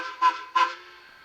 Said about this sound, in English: F2 is reverse quill